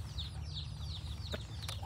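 Fighting roosters clucking and chirping in repeated short calls over a low steady rumble, with a couple of brief sharp clicks.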